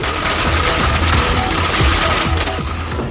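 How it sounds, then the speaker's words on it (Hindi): Rapid crackling bursts of firecrackers popping continuously, loud and dense, with a dull hiss filling the background. "पटाखों का शो,"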